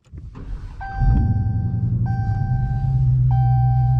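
A Dodge Challenger SRT Demon, rated at 840 horsepower, starts up with a short mechanical whir and a chime, then its engine catches into a loud, steady rumbling idle heard close and alone.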